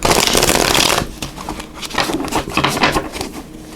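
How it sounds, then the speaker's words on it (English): A deck of Revelations Tarot cards shuffled close up, a loud dense riffle in the first second followed by softer, rhythmic shuffling and card slaps. "we're going to use these Revelations Tarot. And we're going to pull cards for each of the 3 weeks."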